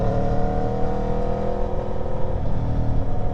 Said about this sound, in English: The GP22 exhaust, oh, very nice. It's a little overpowering.